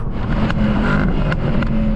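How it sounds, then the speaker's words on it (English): Mercedes-AMG SLS Black Series engine on overrun: a loud, steady engine roar with several sharp pops and bangs scattered through it. "Loving the pops and bangs on the overrun."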